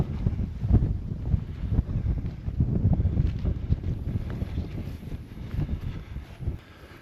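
Steady wind roars across an exposed mountain ridge on Raivavae in the Austral Islands, buffeting the microphone in continuous low gusts with no voices.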